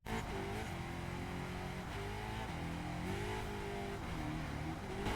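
Car engine in the racing game The Crew (2014), a continuous steady drone with the pitch rising and falling as the car drives and revs, no talk over it.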